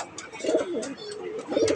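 A racing pigeon coos while being held in the hand, soft throaty burbling coos repeated close by, with a person speaking quietly around them.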